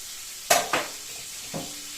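Onion frying in a pan: a few sharp sizzling bursts as pieces are stirred or dropped in, then a softer hiss, close and fairly quiet, with no voices.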